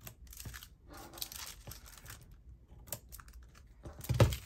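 Scissors snip a bag open down its sides in quiet, close-up bursts of crisp clicks and crinkling, with short pauses between cuts and a louder rustle near the end.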